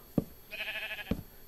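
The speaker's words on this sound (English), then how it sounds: "Sheep, out of the way. Yo, sheep, move." A sheep in a block-building video game gives one short, nasal bleat, framed by two soft thuds, close and moderately loud with no talking over it.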